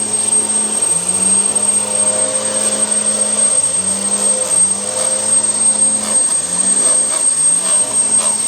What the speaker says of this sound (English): Neighbor is cutting his lawn super loud.